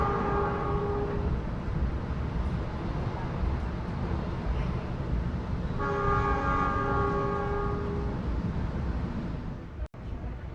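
A new panoramic passenger train rolls past near Bandung station, a steady loud rumble of wheels on rails throughout, with a sustained horn-like tone sounding briefly at the start and again for several seconds midway.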